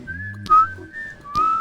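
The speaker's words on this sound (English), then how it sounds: "that whistling is very loud" Whistled melody of a song, clear and loud, a few sustained pitched notes with short breaks, alone without talk.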